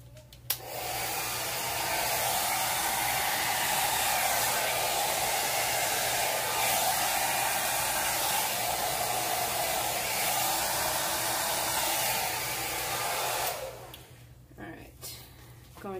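Hair dryer blowing steadily over white and yellow acrylic pour paint on canvas, a loud continuous whoosh lasting about thirteen seconds before cutting off, with faint handling noise at the end.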